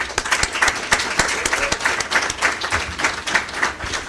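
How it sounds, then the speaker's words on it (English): Applause from an audience at a urology residency graduation ceremony, a lively burst of clapping with distinct individual claps standing out in an irregular rhythm, close and fairly loud throughout. "Let's give applause for them and congratulate them."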